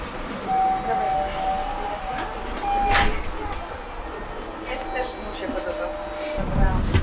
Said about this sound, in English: that's the tram. This is what a Polish tram looks like.